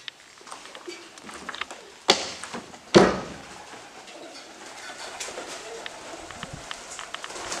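Pigeons cooing in a big old upstairs room of a derelict WW2 RAF base building, soft and steady through the clip, with two sharp knocks or door bangs early on and faint voices in the background.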